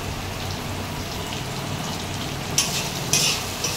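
Chopped tomato fries in a pan, a steady hissing sizzle broken by a couple of bright spattering bursts as it is stirred, close and moderately loud, with no voices.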